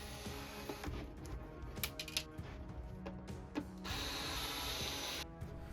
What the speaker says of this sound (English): Now we will remove the 3 screws from each side of the speaker that is holding down the front panel